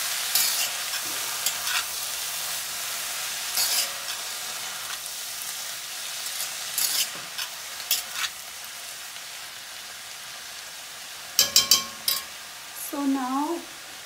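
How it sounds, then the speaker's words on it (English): Cabbage stir-frying in oil in a kadai as it is turned, with a steady soft sizzle, occasional utensil scrapes and clinks against the pan, and a brief sharper clatter near the end. "spread evenly by turning the cabbage inside the kadai"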